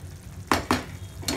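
Fish curry with chopped coriander leaves being mixed gently in a pan, giving three soft, close spoon clinks against the vessel with quiet pauses between and no talking.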